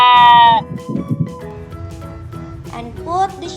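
A toy sheep gives one loud, wavering electronic bleat. A voice follows, talking, and a second, shorter bleat-like tone comes near the end.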